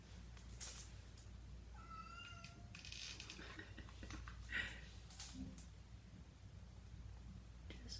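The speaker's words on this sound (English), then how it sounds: "Just my cat, don't worry." A pet cat meows indoors in a few short, rising and falling calls around the middle, faint against a quiet room hum with scattered small knocks and rustles, and no talking.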